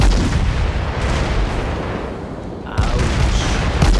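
Naval artillery fire in World of Warships, a dense rumbling barrage of booms with a sharper blast near the end, under faint background game noise.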